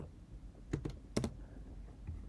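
A password typed on a computer keyboard, a few quick clusters of key clicks with pauses between them, close and crisp against a quiet room.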